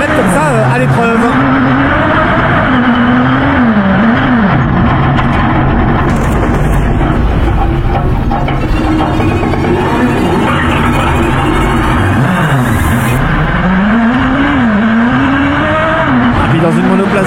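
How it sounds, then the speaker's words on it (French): A Buggy 1600 single-seater autocross car with a motorcycle engine races in a French autocross championship, its engine loud and close, revving up and down in repeated sweeps, with tire noise and a voice talking over it. "Dans une monoplace autocross, moteur de moto, catégorie Buggy 1600 la plus relevée du championnat de France d'autocross."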